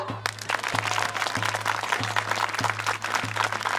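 Villagers clap in a Turkish comedy film, a dense, steady patter of applause with regular low thumping pulses beneath it.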